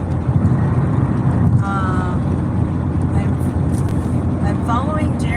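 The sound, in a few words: road noise while driving on the highway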